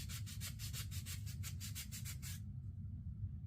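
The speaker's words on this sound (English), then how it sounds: "Just giving it a little hit with some emery cloth here." Emery cloth polishes a metal part of a vintage Ted Williams 440 spincast reel in rapid, rhythmic scratchy rubbing strokes, about a dozen back-and-forth passes, then stopping, leaving a low steady hum underneath.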